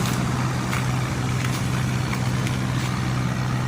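A coastal fishing boat's engine runs steadily with a low, constant hum and drone, close by and without pause, with wind and faint background noise over it.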